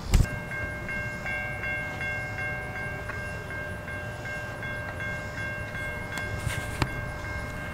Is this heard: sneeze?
no